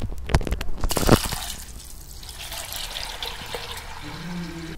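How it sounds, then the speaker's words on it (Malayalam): Water poured into a pressure cooker holding lentils in a home kitchen, a splashing gush at first that settles into a steady trickle, close and without speech. "ആവശ്യത്തിനുള്ള വെള്ളം ഒഴിക്കണം."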